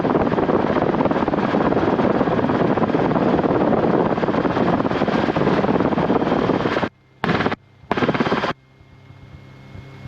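A loud, steady Rotorway helicopter roar fills most of the clip, then cuts out abruptly in a few choppy bursts before fading to quiet background hum.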